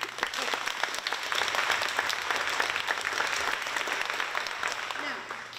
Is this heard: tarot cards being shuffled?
no